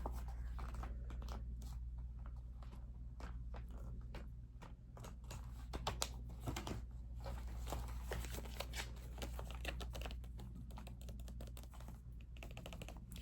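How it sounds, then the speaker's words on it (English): Fingertips tap steadily on a blank notebook page, close and soft, with rapid, irregular patters like light typing against a faint constant hum, recorded ASMR-style with no talking. "I'm gonna go to a blank page and we'll tap on that."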